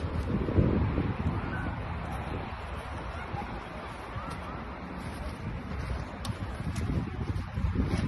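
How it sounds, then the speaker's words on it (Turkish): Strong wind at a campsite roars and buffets the microphone in a continuous rushing noise, rising and falling in gusts, while a tent is being pitched. "ve şansımıza bugün rüzgar var"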